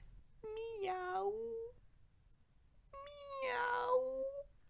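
A human voice imitates a cat, giving two drawn-out meows separated by a short pause, close and fairly soft.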